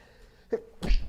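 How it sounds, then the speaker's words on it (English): A single sharp sneeze bursts out after a short, quieter intake of breath, loud and close, with nothing else around it. "But I think I have to sneeze."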